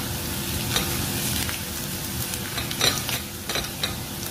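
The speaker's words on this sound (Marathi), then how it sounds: "तेलामध्ये छान परतून घेतला" Onion frying in hot oil after garlic, a steady dense sizzle close by, with occasional stirring scrapes and louder crackles rising through it, and no talking.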